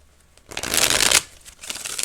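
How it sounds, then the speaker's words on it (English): A deck of playing cards being shuffled during a card reading, a brief quiet riffle followed by a loud, dense burst of flicking cards and then a softer continued shuffle, close and with no voices. "Let me shuffle it again because I was about to drop the deck"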